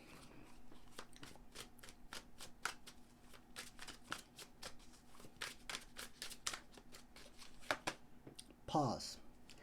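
Oracle cards being shuffled by hand during a tarot-style reading, a long run of quick, crisp riffling flicks in steady rhythm, close and clear, ending in a brief sliding flourish.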